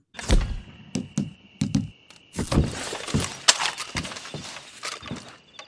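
Gunshots in the western video game Red Dead Redemption 2, a handful of sharp, loud bangs spaced irregularly with brief silences between, then a denser cluster of cracks over a faint steady tone.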